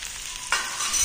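Tomatoes and dal go into hot oil in a pan, a brief steady hiss that swells into a louder, fuller sizzle partway through.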